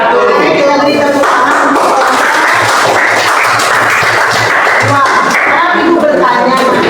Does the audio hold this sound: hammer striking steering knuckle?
no